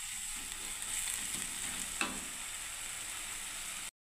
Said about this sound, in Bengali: এবারে কিছুক্ষণ কষতে দিই বন্ধুরা এই মশলাটাকে